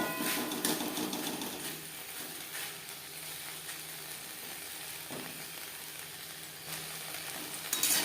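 Okra, potato and green chillies are stir-fried in a pan over high flame, giving a steady, loud sizzle and crackle with occasional scrapes of a stirring utensil.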